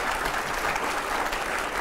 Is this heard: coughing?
no